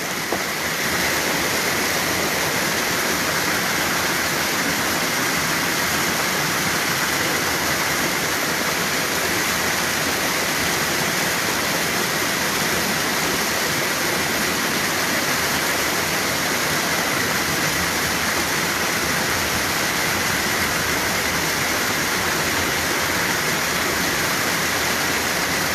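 Rushing floodwater from a July flash flood roars loud and unbroken, a dense broadband torrent that holds steady the whole time with no talk audible over it.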